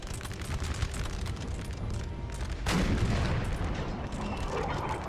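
Artillery from 12-pounder and 6-pounder guns fires in Napoleon: Total War, with distant rumbling shots under battle ambience and one sudden heavy boom that rolls on for a couple of seconds.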